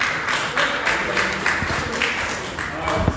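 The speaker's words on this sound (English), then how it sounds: "let's give a round of applause to Brian" An audience applauding at a live-streamed workshop, a steady wash of many hands clapping, with some crowd noise mixed in throughout.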